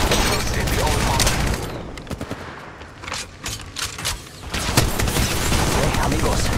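Rapid automatic gunfire in the mobile shooter Apex Legends Mobile, loud bursts of rattling shots at first, then scattered sharp single cracks and short volleys, before heavy firing resumes.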